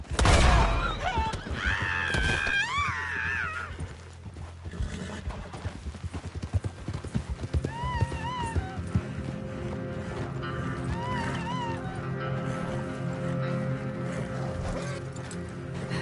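Steady horse hooves clip-clop at a trotting rhythm in the video game Red Dead Redemption 2, with a whinny and a shouting voice early on, over a busy background with music.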